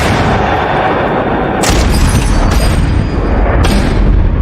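Rifle gunshots: a couple of sharp cracks stand out over a loud, dense rumbling roar that never lets up.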